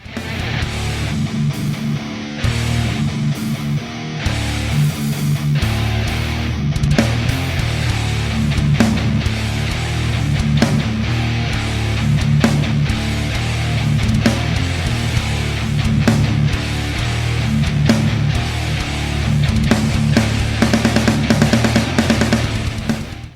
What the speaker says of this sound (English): So after that we go to the first break in song, the first break riff